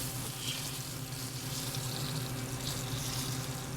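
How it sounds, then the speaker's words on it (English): Lamb shanks browning in a hot pan, tipped against the side to sear their bottoms, give a steady, continuous sizzle and hiss with no voice over it. "I'm just going to lean it off the side of the pan just to brown the bottoms."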